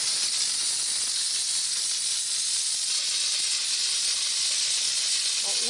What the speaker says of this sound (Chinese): 温水就是雾化的冷水